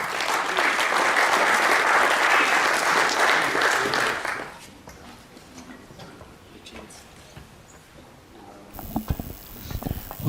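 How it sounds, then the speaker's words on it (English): A crowd at the 2011 Australian 8-Ball Championships singles finals applauds the players, loud dense clapping for about four seconds, then it cuts off to quiet room noise with scattered faint sounds. "And now, a big round of applause and wish these players the very best of luck."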